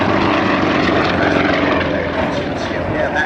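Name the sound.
Sukhoi aerobatic aircraft flying at Biggin Hill airshow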